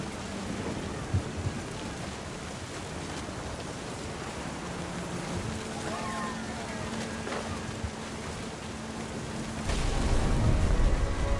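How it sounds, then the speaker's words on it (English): Steady rain hisses through a thunderstorm in What Remains of Edith Finch, with distant thunder rumbling low underneath and a heavier surge of rain and wind near the end. "The thunder sounded much too close and full of angry power."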